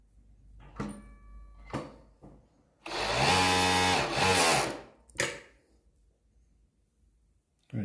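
An industrial overlocker stitching and trimming a troublesome fabric edge sounds in a loud, steady mechanical whirr of about two seconds, with short motor bursts before and after and quiet pauses between them.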